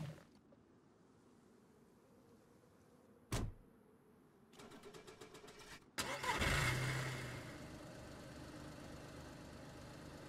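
A car engine cranks and catches in DayZ, with a door-like clunk and clicks before it; the motor turns over and settles into a steady rumbling idle, fairly close and with no talking.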